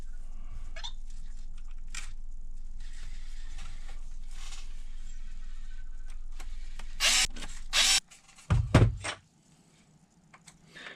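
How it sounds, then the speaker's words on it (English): A power tool drives two longer screws into a part of a Team Corally Kronos XTR RC car, whirring steadily and close for about eight seconds before a few clunks and handling knocks, then near silence. "2 longer screws now going through this piece."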